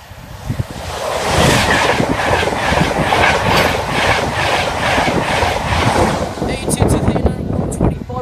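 A long-distance express train on the King's Cross to Edinburgh Waverley line thunders past a rural foot crossing, loud and close for the whole stretch with steady wheel clatter and rushing air, easing off near the end.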